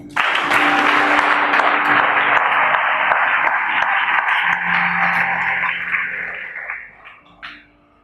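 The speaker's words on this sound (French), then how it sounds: "Acclamons le Seigneur." A church congregation bursts into loud, sustained applause and cheering for the Lord, holding steady for several seconds before tapering off into a few scattered final claps.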